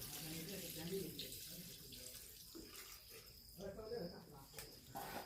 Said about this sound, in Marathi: चिकनमध्ये खाली चिकन लागू नये म्हणून त्याच्यासाठी पाणी टाकून घेत आहे